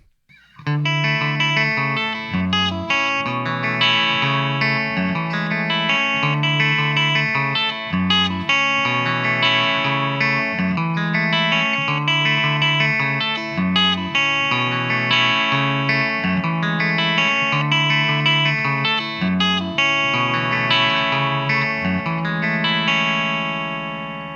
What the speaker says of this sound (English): I'm going to play a riff that actually goes through those bass notes